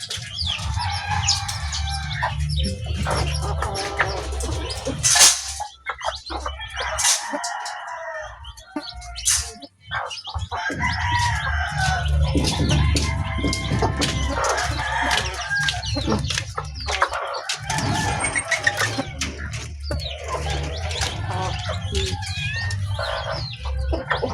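Chickens and a rooster at feeding time in a yard fill the air with steady clucking and scattered crowing, close and busy, alongside occasional bird chirps.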